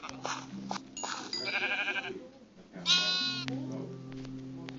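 Sheep bleating in a survival video game, a couple of clear wavering bleats mid-clip over a steady game background hum, with a voice speaking briefly around them.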